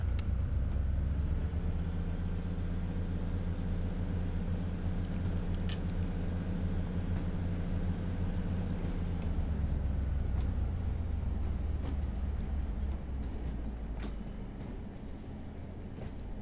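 Class 142 Pacer diesel railcar with a Cummins engine idling and running in the Train Sim World 4 game, a steady low rumbling drone with faint clicks that eases slightly near the end.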